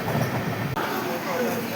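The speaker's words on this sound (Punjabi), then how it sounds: "ਟ੍ਰੇਨ ਪਹੁੰਚਣ ਵਾਲੀ ਆ ਸਟੇਸ਼ਨ ਤੇ" Continuous rumble of a train rolling along the tracks as it nears Patna Junction station, with a brief dip in the noise midway and faint background voices.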